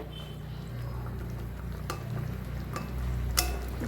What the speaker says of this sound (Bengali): এবার আমি এখানে অ্যাড করে দিচ্ছি অল্প পরিমাণে জল, খুব বেশি জল দেবো না